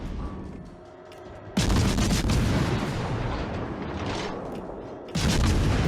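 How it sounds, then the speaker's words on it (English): Warship guns fire salvos in World of Warships: Legends, heavy booming blasts with a long rumbling roar, one arriving after a quieter stretch and another near the end, loud and dense. "I send one salvo further back and try to survive the incoming salvo."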